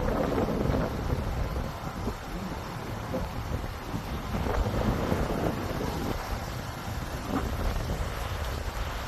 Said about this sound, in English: Nice windy day out today.